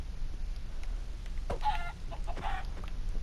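A chicken in the video game Minecraft gives two short clucking bursts over a low background hum, the calls close and brief, with no talk over them.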